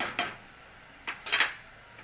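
Red chilli powder, mutton masala and turmeric stirred together in a pan for Kolhapuri soya bhaji, heard as a few brief metallic spoon scrapes and clinks against the pan with quiet gaps between them.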